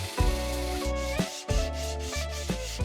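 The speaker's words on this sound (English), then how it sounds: "take like the sandpaper in my hand and just kind of go back and forth while the dowel spins" Hand-held sandpaper rubs back and forth against a wooden dowel spinning on a lathe, a steady abrasive hiss riding over the machine's continuous drone with rhythmic strokes.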